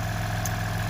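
A 2016 Ram 1500 EcoDiesel pickup fitted with a diesel delete kit idles steadily, a constant loud low rumble with a faint brief high chirp partway through.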